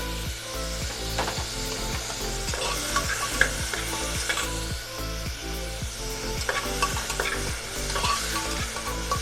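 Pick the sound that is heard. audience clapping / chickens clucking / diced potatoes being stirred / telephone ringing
diced potatoes being stirred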